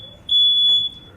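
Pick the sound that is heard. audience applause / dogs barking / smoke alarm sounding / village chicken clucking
smoke alarm sounding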